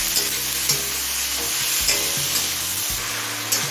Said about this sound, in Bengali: এবার টমেটো নরম হয়ে আসা পর্যন্ত ভেজে নেবে